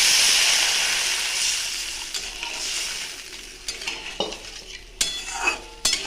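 Water goes into a pan of fried small fish, giving a broad hiss that fades into soft sizzling, with a few sharp clinks of a utensil near the end.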